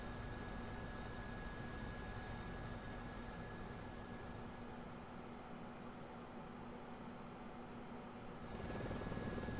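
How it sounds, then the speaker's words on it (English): A helicopter in flight in Persona 4 Arena Ultimax drones as a steady, continuous hum with a constant high whine, fairly faint, running unbroken throughout. "The helicopter leads more sharply as Kikuno-san speaks."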